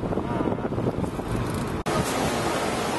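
Ocean waves and wind at Cocoa Beach, Florida, heard as a continuous loud wash of surf with heavy wind buffeting on the microphone and a brief dropout partway through.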